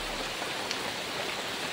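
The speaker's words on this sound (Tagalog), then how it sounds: "Ito ngayon umuulan pa." Steady rain falls beside a stream as broadband hissing patter, continuous and even throughout with no voices.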